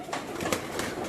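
Sebe pigeons from a Gujranwala breeder's loft coo softly and continuously, a low murmuring texture with a few brief swells and no clear speech.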